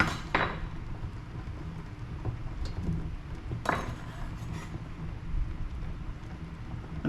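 Carrots dropped into a cooking pan for a leftover chicken pie, a few clattering thuds and clinks with soft sizzling between, close by.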